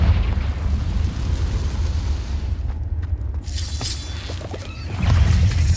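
Confringo fire spell explosions in the game Hogwarts Legacy: a loud, steady low rumble with a sharp crackling burst partway through, then a swell of booming at the end.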